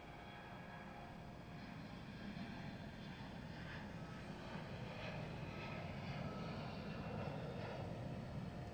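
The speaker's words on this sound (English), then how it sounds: "Tiny Embraer, Eastern Airline or Eastern Airways." An Eastern Airways Embraer regional jet at Gatwick Airport gives a steady, continuous roar of jet engines at moderate distance, holding level throughout with no talk.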